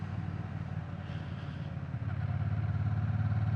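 A Triumph Bonneville T120 motorcycle rumbles steadily in fourth gear at about 40 mph and 2,000 RPM, a low continuous engine drone heard close up with wind noise, swelling slightly toward the end.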